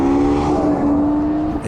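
Honda Civic Type R FN2 engine held high in the revs near 8,000 RPM, a loud steady tonal drone sustained throughout with no talking.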